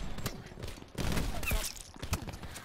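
Gunfire from the Call of Duty: Black Ops 4 multiplayer game, a quick cluster of sharp reports and bursts over about three seconds, fairly faint in the mix.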